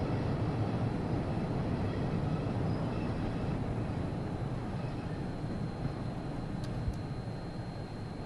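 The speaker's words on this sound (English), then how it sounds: "It's a passenger train, not express" A passenger train rolling along in Train Sim World 5, a steady broadband rumble of wheels and motors with no breaks, ending with a couple of faint metallic clicks.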